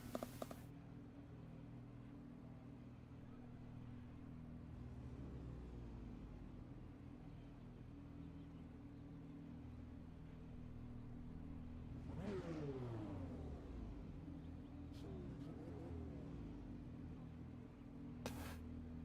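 Racing cars circulate at Fuji International Speedway in a Radical sim racing pro championship. A constant engine drone runs under faint commentary, and a car sweeps past, rising and then falling in pitch near the middle.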